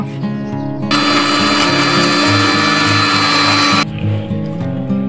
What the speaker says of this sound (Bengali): আমি একটি মিক্সারে সবগুলো উপাদান নিয়ে নিয়েছি, এখন আমি ব্লেন্ড করে নেব